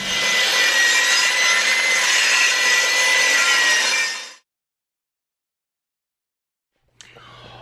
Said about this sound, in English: I've got all the cherry, the maple, and the walnut all sliced up there